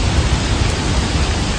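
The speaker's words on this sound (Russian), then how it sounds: "Дождик начинается, ветер." Rain begins falling under gusting wind, a dense, steady hiss with heavy low buffeting, loud and close, with no voices.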